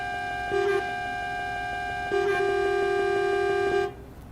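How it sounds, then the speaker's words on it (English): A MAN TGX truck's air horn in a truck driving game gives a short deep tonal blast, then a longer sustained blast of about two seconds that cuts off abruptly. The horn is loud and clear over a steady engine hum. "this should be the air horn"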